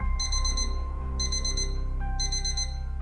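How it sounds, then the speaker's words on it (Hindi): An electronic alarm used as a sound effect in a horror story narration, beeping in three repeated bursts of high, bright tones over a low sustained drone, loud and close. "अचानक से वो उठ जाती है कुछ अलार्म का साउंड से"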